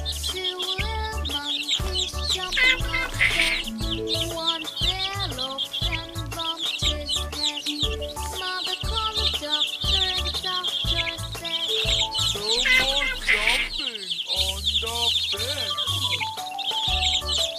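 Cartoon baby birds chirp busily in a nest, a dense run of high, rapid tweets with a few clucking calls over steady background music for the whole stretch.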